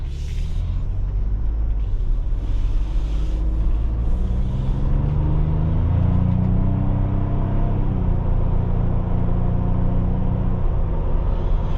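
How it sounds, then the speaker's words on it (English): A 2021 Ford Bronco WildTrak four-door with a 10-speed automatic drives along, heard from inside as a steady low engine and road rumble with a gear-shifting rise and fall in pitch partway through. "So we got a 10-speed automatic transmission, which is super smooth. And wow, so here we are, guys, driving a 2021 Ford Bronco."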